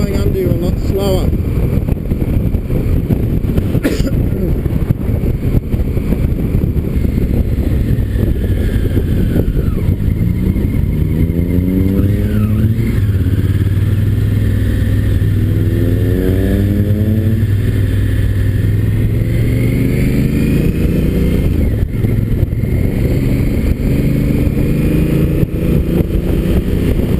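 A 2016 Honda Africa Twin motorcycle cruises along a road, its loud, steady engine drone rising and falling through gear changes amid heavy wind roar, with a rider talking over it.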